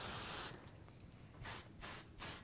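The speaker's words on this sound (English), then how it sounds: "want to put some shine spray in there" Davines Shimmering Mist shine spray misted onto hair in three short, close bursts, each a bright airy hiss, after an earlier longer spray fades out.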